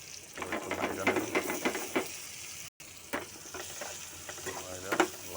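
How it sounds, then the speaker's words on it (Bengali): Spices with salt and turmeric are stirred through hot oil in a frying pan for cooking carp fish eggs, giving a steady sizzle with repeated scraping strokes and a brief gap partway through. "একটু নাইড়া নেব"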